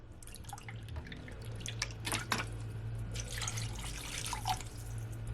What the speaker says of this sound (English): I'm gonna add at least 3 cups of water.